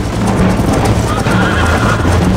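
In the Red Dead Redemption video game, a horse gallops with steady clip-clop hoofbeats while it snorts and neighs. The sound is loud and close, and voices speak over it.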